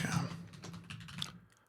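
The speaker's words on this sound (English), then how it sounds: "I'm typing wrong" Keys clatter on a computer keyboard in a quick, fairly close burst of uneven taps, with a low voice hum faintly underneath before the typing trails off.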